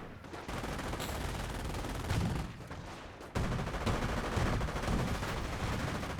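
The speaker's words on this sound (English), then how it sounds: "Bazooka does get a decent shot there." Bazooka blasts and rifle and machine-gun fire rattle through a Company of Heroes battle, with dense overlapping bursts, sharp impacts and a louder surge of shooting in the second half.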